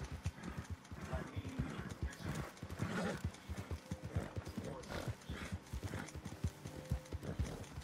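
A horse in the Red Dead Online game clip-clops steadily with rhythmic hoofbeats and lets out a whinny, under game ambience and a voice talking.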